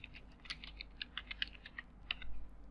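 Rapid, irregular clicking of keys on a computer keyboard, close and fairly quiet over a low steady hum, with a slightly louder burst of keystrokes near the end.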